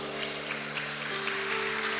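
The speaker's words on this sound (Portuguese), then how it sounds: "Dá glória a Deus e aplauda ao Senhor." A church congregation applauds during a sermon, making a steady, dense wash of clapping that holds evenly throughout, with sustained musical tones running beneath it.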